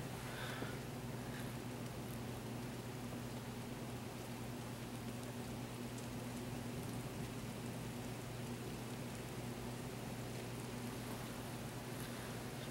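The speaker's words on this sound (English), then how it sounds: "Sounds like the rain's coming." Steady rain falls during a June thunderstorm, a continuous broad hiss of drops that stays even and fairly faint throughout with no voices.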